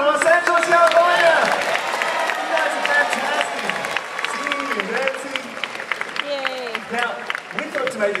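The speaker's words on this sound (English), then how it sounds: "join us in a big round of applause for the real stars of the show" Audience applause and cheering for the children at a Wiggles show in Los Angeles, a broad, loud wash of clapping from a large crowd lasting throughout, with voices and shouts mixed in.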